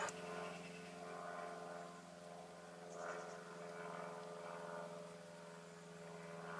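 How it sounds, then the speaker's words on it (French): A distant propeller aircraft drones steadily overhead, heard through an open workshop window, a low continuous hum that rises and falls slightly throughout, faint and alone. "Si vous entendez un avion, c'est parce que la fenêtre de mon atelier est ouverte."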